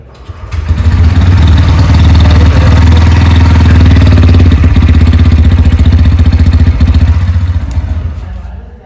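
A Bajaj Pulsar N125 motorcycle's 125 cc engine runs up and idles in neutral, a loud, close, steady low throbbing rumble with a slight clatter that fades at the end.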